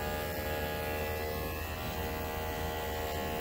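A steady electric shaver buzz with a low mains-like hum, continuous and close, with no talking, used on a sick baby guinea pig with abscesses; the shaver needs charging.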